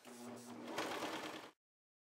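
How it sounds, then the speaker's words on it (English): A cover stitch machine whirs steadily at close range for about a second and a half while sewing a neckline edge, then stops abruptly into silence. "Now I'm using my cover stitch machine, but you could also use your regular sewing machine."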